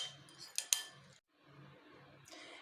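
Spoon stirring chaat masala and salt into yogurt for a vegan okra raita, quiet scraping and a few light clinks against the bowl in short bursts, with a brief pause between them.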